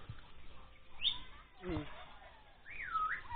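A bird whistles a couple of sliding, looping notes over a faint noisy background, with a low murmur in between.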